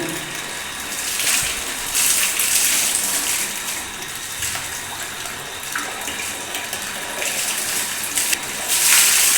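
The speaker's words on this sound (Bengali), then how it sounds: "ডান কাঁধে 3 বার পানি দিতে হবে।" Water pours over a body during a ritual bath, washing the shoulders in repeated splashes; a steady, fairly loud gushing wash with surges rising and falling throughout, no voices.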